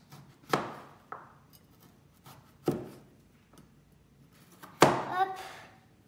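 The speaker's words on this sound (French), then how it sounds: "on le coupe en petits carrés" A knife chopping pumpkin into small squares on a cutting board in a kitchen, several sharp separate cuts at uneven intervals, close and clear against quiet.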